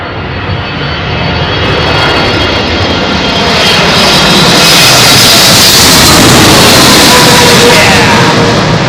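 An Emirates freighter jet, a Boeing 777, lands in a southwest crosswind on runway 27L at London Heathrow, a loud continuous roar of engines that swells and stays strong as it passes close.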